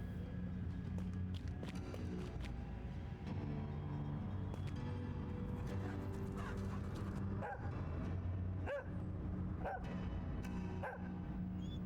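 A dog barking in the video game Helpless, repeated short yips and barks scattered through the second half over a steady background drone, moderately loud.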